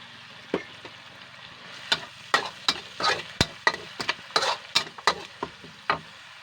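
Pork cracklings being stir-fried with chili, salt and stink beans in a pan, with sharp irregular scraping and clacking strokes of a spatula over a low sizzle, close up and alone, no talk.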